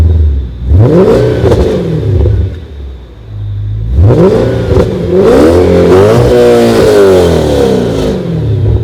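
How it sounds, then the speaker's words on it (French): Loud, close car engine revving hard toward its 8700 rpm limit, with two long climbing pulls, a brief drop between them and a sustained high-rpm roar in the second; no voices. "On peut monter dans les tours jusqu'à 8700 tours."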